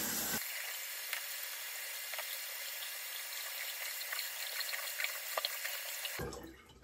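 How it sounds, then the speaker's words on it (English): Water runs steadily from a bathroom sink tap during a morning face wash, a continuous close splashing rush that cuts off near the end, with small drips and clinks mixed in. "All right, let's wash our face."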